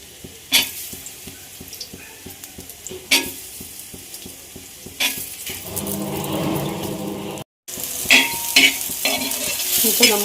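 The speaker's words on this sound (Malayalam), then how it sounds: "നമുക്കിതൊന്ന് നല്ലപോലെ നെയ്ക്കകത്ത് കിടന്നൊന്ന് വഴയട്ടെ" Small pieces of banana fry in ghee for jackfruit-seed payasam, crackling and sizzling steadily while a utensil repeatedly scrapes and stirs the pan, with louder sputtering bursts near the end.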